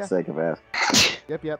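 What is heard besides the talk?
sneeze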